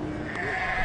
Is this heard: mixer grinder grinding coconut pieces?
no